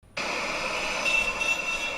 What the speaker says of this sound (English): So I'm going to play some loud traffic sounds and talk through it.